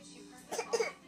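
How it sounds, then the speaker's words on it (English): A young girl coughs twice in quick succession, short soft bursts close by in a quiet room, with a faint hum behind. "that's how you cough"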